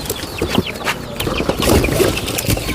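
Two-month-old chicks clucking and peeping inside delivery boxes, a busy overlapping chorus of short calls close by, fairly loud and continuous with no talk.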